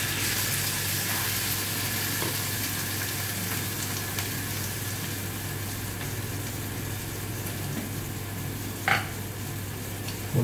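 Chicken mince sizzles steadily in a hot pan, a continuous close frying hiss with a low background hum and an occasional clink of a utensil.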